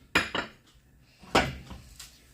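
A metal frying pan clanks down onto a gas stove grate, two quick clatters followed by another clunk and a light rattle.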